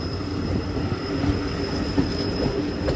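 A train runs on rails with a continuous close rumble of wheels and a thin, steady high metallic whine over it, with no voices.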